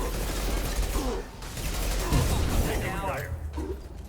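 Submachine gun fire in the video game Mass Effect, on Insanity difficulty, with rapid bursts crackling through a dense, busy battle mix alongside talk.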